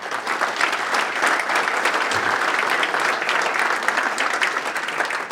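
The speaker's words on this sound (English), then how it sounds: "So a nice round of applause for Vin." An audience at a high school sports hall of fame induction ceremony breaks into steady, sustained applause, many hands clapping together in a hall with no voices standing out.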